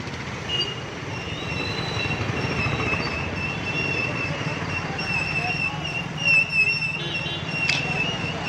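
A steady rumble of a loaded freight train from a mill rolling past with faint wheel squeals, continuous throughout.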